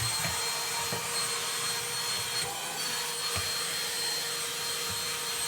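An Auto XS cordless vacuum cleaner runs with a steady, close, high whine, and a few faint knocks and rattles of debris sound under the motor.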